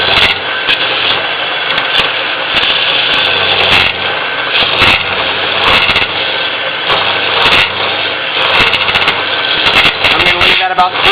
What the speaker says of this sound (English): You hear that little chatter going in there.